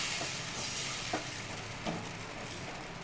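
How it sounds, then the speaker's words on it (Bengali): Pointed gourds frying in a pan with rice, a soft, even sizzle underneath with a couple of brief scraping stirs, close and fairly quiet with no voices. "এবার আমি পটলগুলো দিয়ে দিলাম"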